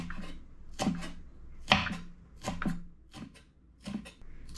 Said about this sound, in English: I'm gonna chop it like this in, in an angle